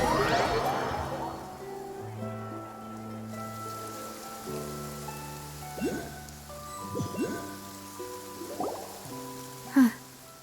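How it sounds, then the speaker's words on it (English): Rain falls steadily in the Genshin Impact video game, a soft continuous patter under layered soft music, with a few drip-like accents and one sharper tap near the end. "It's been raining non-stop for a few days now."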